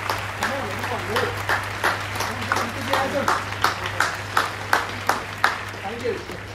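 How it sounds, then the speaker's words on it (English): Office colleagues at an Ernst & Young farewell on a last working day clap together in a steady, sustained round of applause, close by, with voices talking over the clapping throughout. "give a round of applause for yourself and for me as I just walk out"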